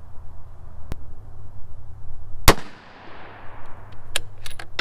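A .223 rifle topped with a Bushnell Trophy 4-12x40 scope fires outdoors: one sharp, loud crack with a ringing tail, framed by a faint distant shot before and scattered far-off pops after.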